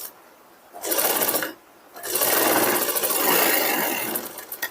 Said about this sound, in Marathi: आपण पहिली जी शिलाई मारलेली आहे त्याच शिलाईवर आपल्याला परत डबल शिलाई मारून घ्यायची आहे